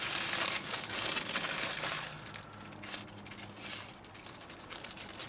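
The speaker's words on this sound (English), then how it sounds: "Sorry, I'm like unwrapping this." Crinkling of a sushi burrito's wrapper as it is peeled open, crisp rustles and crackles up close, busiest at the start and then softer and intermittent, with no talk over it.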